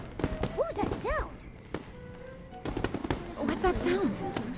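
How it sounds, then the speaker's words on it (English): Fireworks go off in the video game Infinity Nikki, a run of sharp pops and bangs with whistling rising and falling tones, scattered across the clip against a busy game soundscape. "What's that sound? Fireworks? That's definitely fireworks."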